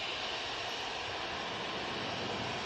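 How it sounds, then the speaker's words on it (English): A departing jet airliner at Manchester Airport sends out a steady, even engine roar, a continuous broadband rush of moderate loudness with no voices over it. "A lot of rudder action going on that departure"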